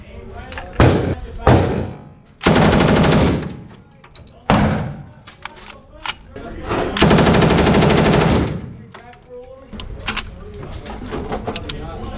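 An RPD light machine gun at a Las Vegas shooting range rips off several loud, close bursts of automatic fire, broken by short pauses and brief talk.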